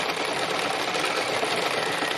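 A sewing machine stitches a textile landscape with a fast, steady, buzzing whir that runs continuously and close-up, with no voices.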